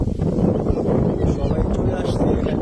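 Strong wind gusting over a flooded wetland in the Bangladesh countryside, a loud continuous low roar buffeting close to the microphone throughout.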